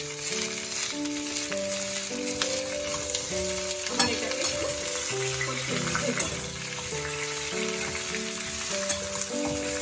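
Ridge gourd with its peel partly left on frying in an oil-filled pan for a Bengali marich jhol curry, a steady close sizzle with stirring scrapes and occasional clinks, no talking.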